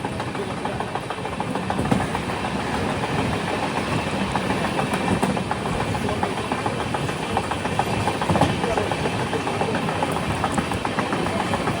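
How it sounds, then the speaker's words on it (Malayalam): The empty rake of the Kerala Express, bound for New Delhi, moves at Thiruvananthapuram Pettah railway station. A steady locomotive engine drone and rolling rumble of railway wagons carry on throughout at a constant, fairly loud level, with no voices. "ഇതിന്ന് ന്യൂഡൽഹിയിലേക്ക് പോകുന്ന കേരള എക്സ്പ്രസിന്റെ MT റേക്കാണ്."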